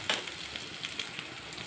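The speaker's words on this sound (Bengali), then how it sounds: "এবার রসুন দিয়ে পেঁয়াজটাকে ভেজে নেব" Garlic and onion frying together in a pan for a chicken snack recipe, a steady soft sizzle with a few brief crackles, close and fairly quiet, with no voices.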